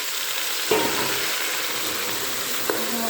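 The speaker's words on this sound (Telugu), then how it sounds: "కొంచెం కలర్ మారాక కట్ చేసి పెట్టిన కూరగాయ ముక్కలన్నీ వేసుకోవాలి." Cut vegetable pieces fry in oil with garlic, onion, green chili and curry leaves, making a loud, steady sizzling hiss with two brief knocks of a stirring utensil.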